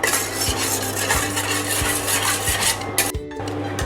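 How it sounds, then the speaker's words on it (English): A curd and chocolate mixture is whisked in a pan over a low flame, with steady close scraping and rhythmic metal taps about every half second, and a brief lift of the whisk near the end. "Whisk it continuously when you are cooking, otherwise it will spoil easily."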